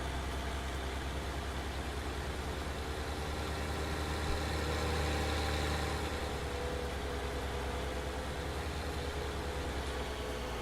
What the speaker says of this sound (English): Oh, love the sound of that tractor.